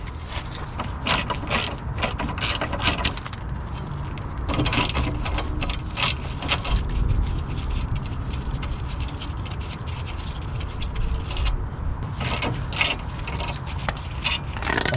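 Ratchet wrench removing ball joint bolts on a 2006-2011 eighth-generation Honda Civic, rapid continuous clicking with scraping metal, close and steady throughout.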